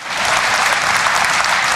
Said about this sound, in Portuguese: aplauda para adorar ao Senhor